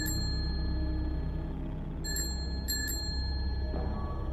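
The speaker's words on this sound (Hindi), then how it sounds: "उसी क्षण बाहर से फिर वही साइकिल की घंटी सुनाई दी।" A bicycle bell rings outside a house in a few quick metallic dings, the first clustered near the start and then a couple more spaced shortly after, over a steady low background hum.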